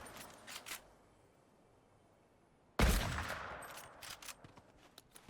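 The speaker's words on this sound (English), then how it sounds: "hunting rifle trade fight" Hunting rifle fire in a Fortnite zero build match: quiet game ambience with faint clicks, then one loud sharp shot that rings out and decays, followed by scattered softer impacts.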